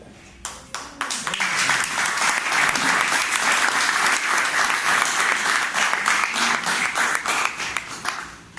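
Sustained applause from an audience honoring a man named Jorge, a dense, loud wash of clapping that swells quickly and holds steady for several seconds before easing.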